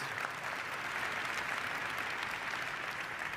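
A hall audience at a Nansen Award ceremony applauds the honoree with steady, dense clapping from many hands, sustained evenly throughout with no voices on top.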